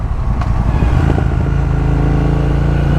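Triumph Thruxton RS motorcycle engine under way while riding, a loud, steady mid-pitched drone with a rising rev in the middle, heard up close and alone without talk.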